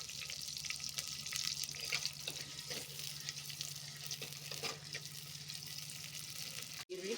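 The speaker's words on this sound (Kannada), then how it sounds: "ಸ್ವಲ್ಪ ಈರುಳ್ಳಿ ಹುರ್ಕೊಳ್ಳೋಣ" Chopped onion frying in oil in a pan for a Mangalorean fish curry, giving a soft, continuous sizzle with a low hum beneath it and no talking.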